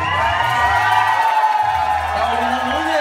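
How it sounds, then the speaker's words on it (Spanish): An audience at a Rey Vaquero contest question round cheers and whoops for a contestant, a dense, loud burst of crowd noise with shouts mixed in, lasting about three seconds. "¡Aplauso!"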